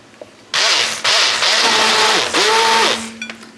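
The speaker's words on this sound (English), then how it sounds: "So now I'm going to blend it." A blender whirs loudly in a few bursts blending roasted cauliflower soup, its motor pitch rising and dropping as the contents churn, close and with no talking.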